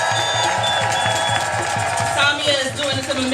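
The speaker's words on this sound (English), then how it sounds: "make another round of applause for our lovely teacher" Crowd cheering and applauding at a 2023 teacher strike rally in Oakland, a dense steady wash of claps and shouts that swells near the end, with a voice over a loudspeaker talking through it.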